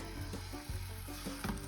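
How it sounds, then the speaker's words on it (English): Syrniki, Russian farmer's cheese pancakes, sizzle in a hot frying pan: a close, steady crackling hiss with faint clicks of the pan, continuous and without any talking. "Now we get the sizzle for Syrniki on the pan."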